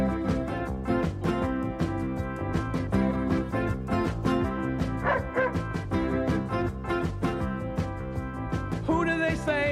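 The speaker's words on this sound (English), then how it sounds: "OK, Peter, can we go and see the police dogs in action?" Police dogs in a children's puppet show bark in a rapid, regular run of loud yaps that continues for about ten seconds, close and unbroken, with no talking.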